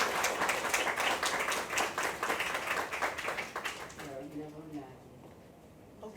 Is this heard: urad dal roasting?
no